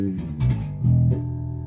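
Deep, thick bass guitar notes ring out close and loud, a couple of plucked tones sustaining with a warm, muffled low end.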